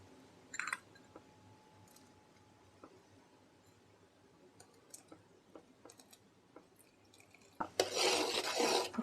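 A spoon scrapes and taps in a pan of channa dal sweet, with sparse light ticks and clinks, then a louder burst of stirring and scraping near the end.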